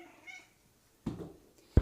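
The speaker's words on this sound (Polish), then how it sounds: "To jest Waszunia, mój słodki kociak, którego torturuję właśnie w tej chwili." A house cat meows indoors, a short soft mew early on followed by a louder, sharper meow and the start of another at the end, close by with no talk.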